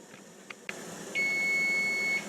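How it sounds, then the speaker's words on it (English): A few faint clicks, then a kitchen timer's steady electronic beep holds for about a second before cutting off, in a quiet room. "there's the buzzer telling me that 4 minutes have passed"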